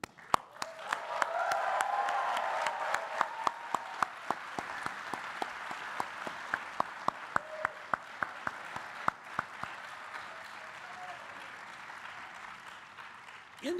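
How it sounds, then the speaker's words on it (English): A large audience at a Columbia Business School graduation class day ceremony applauds in a dense, sustained wash of clapping that swells and then slowly thins out, heard in a big hall and punctuated by sharper individual claps. "take a moment to acknowledge with your applause the people who have supported your time here"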